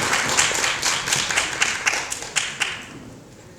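A small audience at a policy forum on power wheelchair support claps, the individual hand claps distinct and rhythmic at first, then thinning and fading away toward the end.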